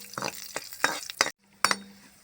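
Cashews and raisins fry in hot ghee for beetroot halwa, giving a soft sizzle broken by several sharp scraping stirs of a spoon against the pan, close and moderately loud, with a brief silent gap partway.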